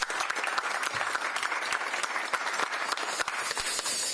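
Steady applause from an audience at a community board monthly meeting, a dense wash of many hands clapping at even loudness throughout, with no voices over it.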